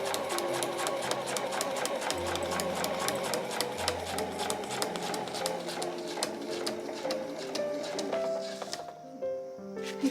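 A sewing machine stitches fabric for a simple one-piece tote bag, running in a rapid, even mechanical rhythm close up for most of the clip before slowing and stopping near the end.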